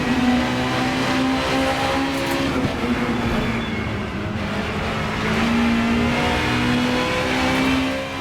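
Racing car engines in the Assetto Corsa video game hold a loud, steady drone during a ranked multiplayer race, with a sustained engine tone rising slightly and falling, and no voices.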